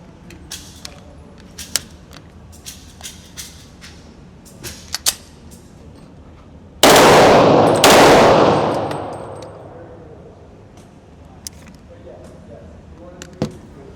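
A S&W M&P 2.0 Pro Series .40 S&W pistol fitted with a Freedom Finger forced-reset trigger fires a loud, rapid burst lasting about a second, then a ringing decay at an outdoor range, with scattered clicks and handling noises before and after.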